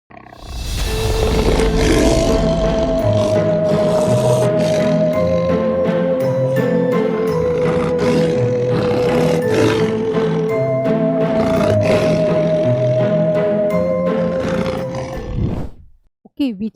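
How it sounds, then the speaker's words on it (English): A wild lion roars loudly and continuously for many seconds, a deep rolling growl that rises and falls, with faint tonal background music underneath. "This is a lion."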